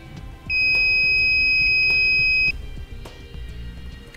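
An electrical circuit tester touched to the terminal of a 12-volt outlet being installed in a 2014 Honda CR-V gives one steady two-tone beep lasting about two seconds, over faint background clatter.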